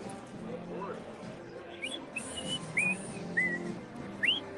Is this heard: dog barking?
no